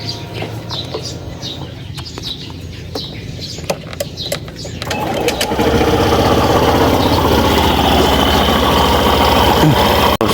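Suzuki Burgman Street scooter with its side casing removed starts up midway and settles into a steady, fairly loud idle, with faint bird and rooster calls and workshop noise before it fires.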